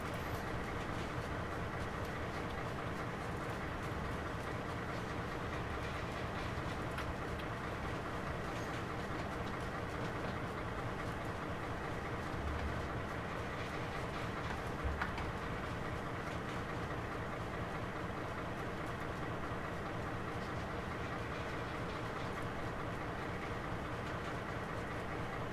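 A BR 101 locomotive hauling an Intercity train in Train Sim World 4 runs at a steady pace, with a continuous broad rumble and rail noise. The sound stays even and sustained throughout, with no voices.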